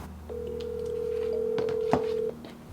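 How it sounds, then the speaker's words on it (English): A phone call placed by voice assistant rings out: a steady dial tone sounds for about two seconds with a brief click partway through, then stops abruptly, heard close and clear with no talking. "Hey Siri, call Lisa"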